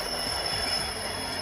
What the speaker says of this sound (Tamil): இப்போ 2 ட்ரெயின் ஒன்று போல் வருது இல்லைங்களா